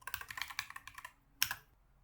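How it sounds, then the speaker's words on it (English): Fast keystrokes typed on a computer keyboard, about a dozen quick close clicks followed by a pause and one louder final key press. "press Windows plus R and type in cmd, and now you type in this command."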